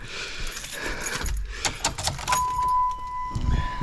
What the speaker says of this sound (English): we'll get the key in the ignition here